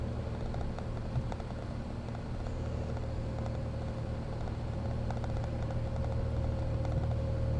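Steady low engine drone from a catless, straight-piped Ford Taurus Limited on the road, heard from inside the car as a continuous even rumble with road noise and no talking.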